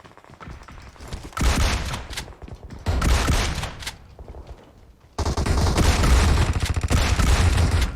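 Gunfire in PUBG Mobile, a battle royale shooter: several loud bursts of rapid automatic shots in clusters, the last and longest sustained burst very close, with quieter gaps between.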